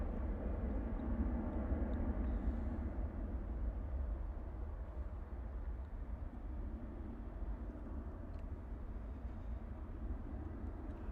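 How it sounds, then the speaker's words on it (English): An EasyJet Airbus A320 airliner taxiing out at Bristol Airport at sunrise, heard as a steady, distant low jet rumble and whine that stays constant without breaks. "our EasyJet A320 that we are looking at right now is heading out the door off to Split"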